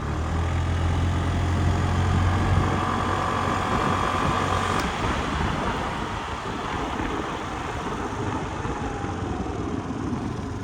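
Suzuki Address V125 S scooter engine running on a test ride, a steady loud motor drone with broadband road and wind noise throughout, no talking.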